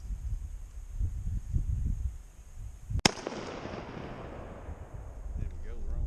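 A turkey shotgun fires a single sharp, loud blast whose echo trails away afterward. Someone talks beforehand.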